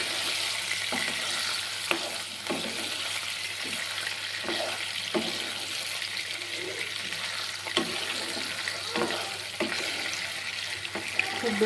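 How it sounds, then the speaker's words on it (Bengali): Paneer pieces fry in hot oil in a wok, an even hiss under repeated soft spatula taps and stirring knocks spread through the clip, with no one talking. "এবার পনিরগুলোকে ভেজে নিব।"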